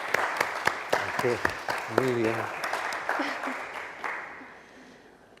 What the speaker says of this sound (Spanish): pues un aplauso para Ángela, ¿no? Para ambos